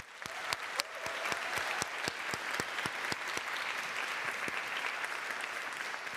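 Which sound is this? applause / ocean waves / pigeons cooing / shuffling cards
applause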